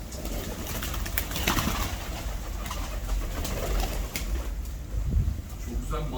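Pigeons coo softly in a bird keeper's loft that houses many unusual birds together, their low calls mixed into a steady, busy room noise with faint voices in the background.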